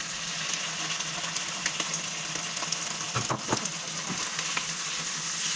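Pork with garlic and onion sizzling steadily in a pan, a continuous fry hiss with a few scraping stir strokes near the middle, close and without talk.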